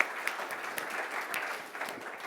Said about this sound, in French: On va applaudir Anne